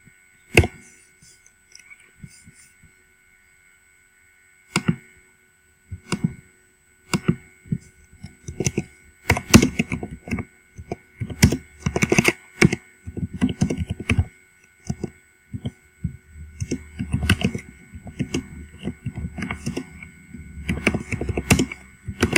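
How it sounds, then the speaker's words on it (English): Computer keyboard typing during a Sims 4 play session, with bursts of clustered keystrokes and clicks, sparse at first and then dense and continuous, close and fairly loud with no talking. "so sorry for the typing noises as well"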